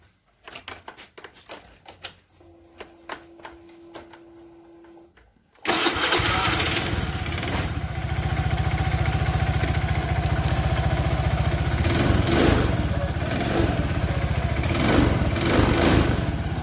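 A Suzuki Nex motorcycle with a fault causing heavy white smoke and power loss starts after a few quiet mechanical clicks, then runs loudly and roughly at close range with a steady, unsteady-toned idle.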